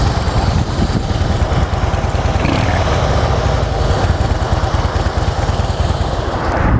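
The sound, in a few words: Harley Davidson Deluxe motorcycle engine running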